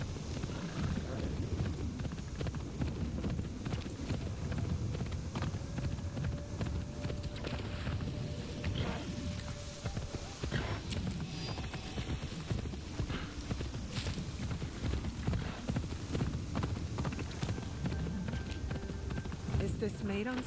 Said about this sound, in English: Is this Maidan's horse?